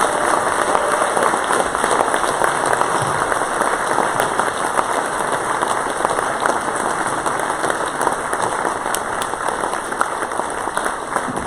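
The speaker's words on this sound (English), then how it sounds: "would you guys all give him a round of applause" Sustained applause from a church congregation at a pastor's farewell service, dense steady clapping from many hands filling the room without pause.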